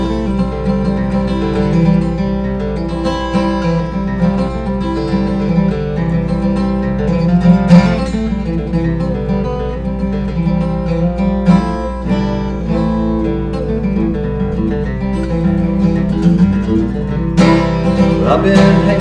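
A tune played in a busy cross-picking style on acoustic guitar, a continuous bright run of picked notes that fills the whole stretch at steady volume.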